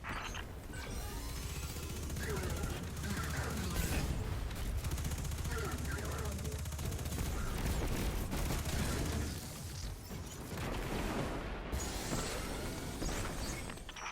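Heavy guns open fire in a tower defense video game, sustained volleys of gunfire and booming shots rolling on at a fairly quiet level, with game voices faintly under the barrage.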